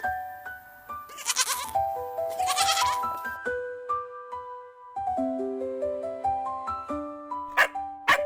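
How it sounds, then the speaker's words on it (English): Several high, wavering goat bleats ring out over a light tinkling melody, with a couple of sharp bright accents near the end. "Here are the kids, and they are baby goats."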